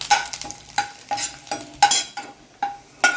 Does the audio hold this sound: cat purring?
no